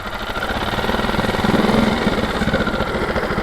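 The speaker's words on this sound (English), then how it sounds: "So we can rev it a little bit." A Honda 5 hp outboard motor runs in gear and revs up a little, a steady close engine drone that swells slightly in the middle and then settles, with no voices.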